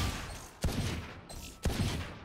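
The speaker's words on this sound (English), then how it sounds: "Choose your difficulty and start shooting, but thoughtfully." Two sharp, loud single gunshots ring out about a second apart over a low background hum during flick-shot practice on the Valorant range, with no talking.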